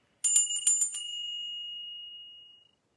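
A small bicycle-style bell is rung several times in a quick cluster, then left to ring out in a long, clear, fading tone before a tarot card draw, heard alone with no talking.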